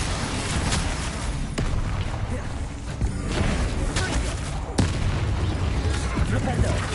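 Spell blasts from the Confringo and Flipendo charms in the Hogwarts Legacy video game, a dense run of booming impacts and crackling bursts, with sharp loud hits around the start, middle and near the end over continuous battle noise.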